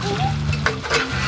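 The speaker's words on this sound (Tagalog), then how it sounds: "Ayan na po, mga idol. Kumukulo na po." Chicken adobo in coconut milk, with squash, boils in a pot and is stirred, giving a close, bubbling simmer with a few scraping strokes of a utensil in one short burst.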